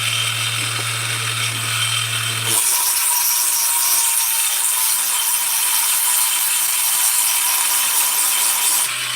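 A worker sands with 200-grit sandpaper in a continuous rough hiss that steps up to a louder, brighter rasp partway through and then holds, with no speech.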